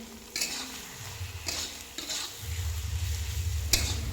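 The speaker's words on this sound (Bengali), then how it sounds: "তো এই দেখো সবজিটা বানাচ্ছিলাম, আলু পনিরের, আর ক্যাপসিকামটা ভুলে গেছিলাম দিতে" Potato and paneer vegetable curry with capsicum cooking in a pan, a steady close sizzle of frying with intermittent scraping taps of a spatula stirring against the pan.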